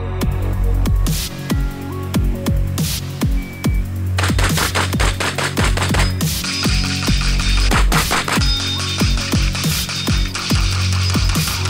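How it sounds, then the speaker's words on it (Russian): Rapid shotgun fire with a cylinder-choked gun at ten metal popper targets from ten metres, a fast, loud string of sharp blasts with metallic ringing hits running throughout. "Наше первое испытание – это скоростная стрельба."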